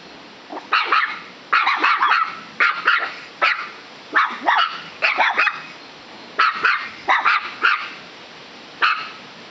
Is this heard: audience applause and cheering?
no